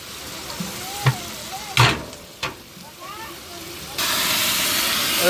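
Hot oil sizzles as tempering goes into gongura: a few sharp spitting crackles, then a loud steady hiss, with a voice speaking briefly over it.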